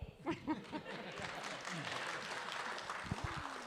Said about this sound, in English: All the grandparents are clapping.